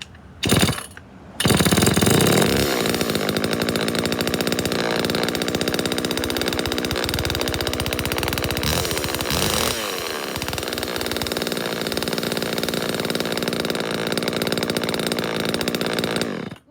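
A 1979 Homelite Super EZ Automatic chainsaw roars continuously at an abnormally high, steady idle, loud and close, with a brief sputter at the start before it settles into a constant drone.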